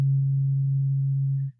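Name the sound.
modular synthesizer oscillator playing a sine wave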